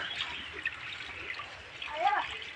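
Water flows steadily from a motor-driven pipe into a new guppy fish pond, a continuous hissing trickle that swells slightly toward the end, with faint voices in the background.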